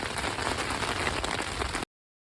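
Rain patters steadily on a tent during a wet, stormy night of camping on a solo motorcycle trip, a dense close hiss of drops that runs for about two seconds before cutting off.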